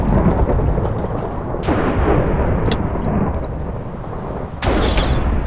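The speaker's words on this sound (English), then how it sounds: "Struck by lightning." Minecraft lightning strike in Hypixel Murder Mystery, loud booming thunder with sharp cracks at the start and again near the end, rumbling continuously and close with no talking.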